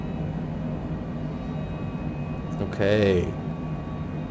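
Steady broadband roar of an airplane engine climbing out after takeoff from John Wayne Airport in Orange County, California, heard from inside the cabin, continuous and even, with a brief spoken word partway through.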